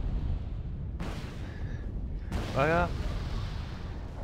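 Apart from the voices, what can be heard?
missile explosions in Wargame Red Dragon video game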